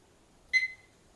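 A kitchen timer gives a single short, clear electronic beep as it is started while an apple cobbler is dry baked; the beep stands alone against a quiet background.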